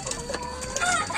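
Hens on a chicken farm cluck steadily and close by, with a busy coop chorus of overlapping calls and no one speaking.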